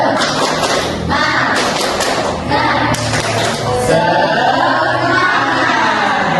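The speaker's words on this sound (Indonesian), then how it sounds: "Tepuk semangat." Schoolchildren in a classroom perform a rhythmic spirit clap, patterned bursts of clapping and thumps in a group beat, mixed with young voices chanting along before the sound shifts toward a looser crowd noise.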